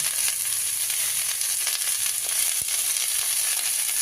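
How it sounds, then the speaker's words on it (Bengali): Sliced star fruit being stirred and fried in a pan for a pickle, giving a steady close hiss of sizzling oil with faint scraping stirs and one sharp knock near the end. "কামরাঙাগুলো একটু নাড়তে থাকতে হবে, দেখবেন এর কালারটা ধীরে ধীরে চেঞ্জ হয়ে যাচ্ছে।"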